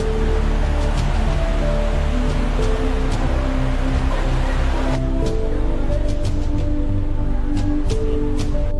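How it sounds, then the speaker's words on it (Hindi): Waterfalls pour down at Gotmeshwar in Pratapgarh, Rajasthan during the rainy season, making a loud, steady, unbroken rushing roar that fills the whole stretch. A faint tonal drone sits underneath. "मगर ये जो झरने गिर रहे हैं यहाँ पर, इसका आनंद सिर्फ आप बारिश के समय पर ही ले सकते हैं।"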